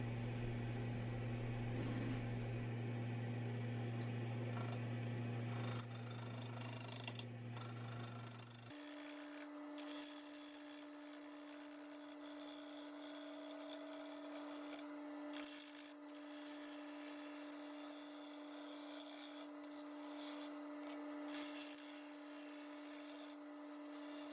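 A wood lathe turns a maple log into a bowl at around 600 RPM, with a steady motor hum that shifts pitch partway through and intermittent rubbing scrapes of the tool against the wood.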